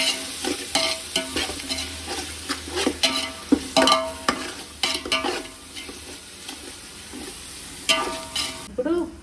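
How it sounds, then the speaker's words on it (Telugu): Curd is mixed well in a bowl for chicken biryani. A spoon scrapes and stirs in a quick, uneven rhythm, close and fairly loud, with a short pause before the strokes resume. "పెరుగు తరగం లేకుండా బాగా కలుపుకోవాలి."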